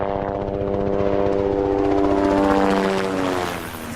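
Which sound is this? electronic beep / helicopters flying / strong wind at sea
helicopters flying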